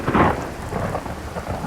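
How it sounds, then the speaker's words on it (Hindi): Rain falls steadily with a low rumble of thunder at the start, a soft continuous patter that fades slightly after the opening roll, with no voices. "बारिश हो रही है"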